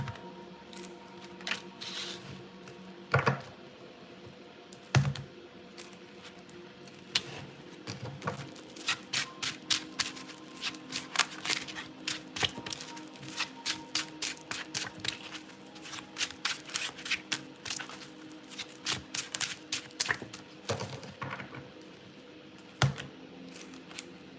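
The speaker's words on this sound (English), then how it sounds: "Let me pull more cards." Tarot cards shuffled by hand during a live reading, a long run of quick, crisp riffling clicks and flutters in bursts, close and fairly quiet, no talking.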